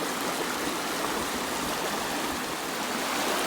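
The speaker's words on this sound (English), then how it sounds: "Just listen to that water talking as it comes over those stones, those rocks." Water flows steadily over stones and rocks in a stream on a home ranch, a continuous close rushing wash with no voices.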